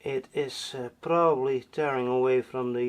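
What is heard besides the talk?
No everyday noise stands out behind the speech.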